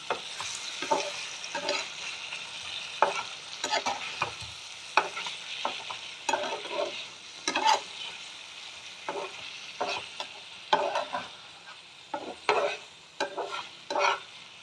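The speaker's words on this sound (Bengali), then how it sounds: "এবার আলু আর এই মশলা একসাথে আমি কষিয়ে নিলাম" Potatoes and spices are stir-fried together in a pan, giving a soft steady sizzle broken by repeated scraping, clacking stirs of a spatula at an irregular rhythm, close and with no voices.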